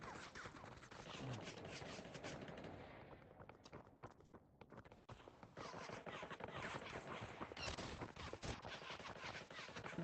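Sustained video game gunfire aimed at the player: dense, rapid automatic shots crackle almost without a break over about ten seconds, dipping briefly midway, with little speech.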